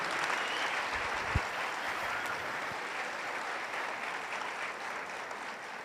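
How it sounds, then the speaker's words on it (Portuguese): A church congregation applauds at a gathering, a continuous broad wash of clapping from many hands at moderate volume, with one brief low thump partway through. "Gostaria que você aplaudisse Jesus pela vida do Johnny"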